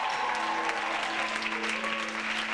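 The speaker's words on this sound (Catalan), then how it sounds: "aplaudiment." An audience at a Santa Cecilia concert applauds steadily and continuously, a dense clapping that fills the hall, with a faint tonal hum underneath.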